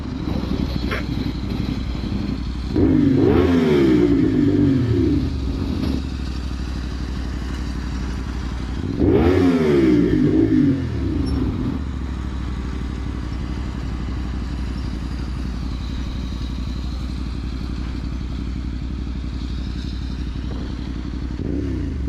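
A CFMoto 450SS motorcycle engine idles close by, then revs twice in sharp rising and falling bursts a few seconds apart before settling back to a steady idle.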